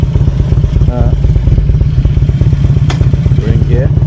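A Harley-Davidson Road King 100th Anniversary Edition motorcycle idling loud and close, with a steady rapid engine putter throughout and someone talking over it.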